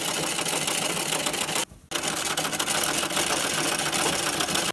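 A sewing machine stitches sofa upholstery in a loud, steady, dense mechanical rattle. It stops briefly partway through, then resumes at full speed and runs on to the end.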